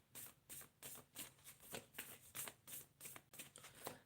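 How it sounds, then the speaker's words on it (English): Tarot cards being shuffled by hand, a steady run of soft riffling bursts at a regular rhythm, close and quiet with no talk. "I'm shuffling all the time"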